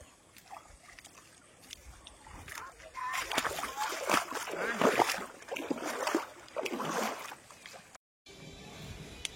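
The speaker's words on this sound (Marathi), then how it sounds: "इकडे नदीमध्ये बैल धुणं चालू आहे" Water splashes and sloshes repeatedly as bulls are washed in a river before the Bailpola festival, with voices talking faintly in the background.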